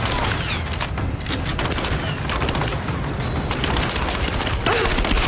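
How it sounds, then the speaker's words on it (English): Combat in Rise of the Tomb Raider with a grenade going off amid a steady, loud din of gunfire and crackling, splintering booms that run continuously from start to finish. "Throw the grenade."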